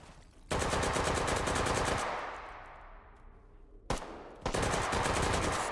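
G36 rifle in a video game firing on full auto, loud close bursts of rapid shots, a long burst trailing off, a pause, then another sustained burst.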